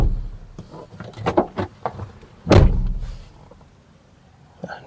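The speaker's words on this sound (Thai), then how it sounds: "เราปิดประตูก่อนนะครับ" A door slams shut on a used Toyota Vigo manual pickup truck, one solid thunk near the middle of the clip, preceded by scattered soft handling clicks and rustles close by.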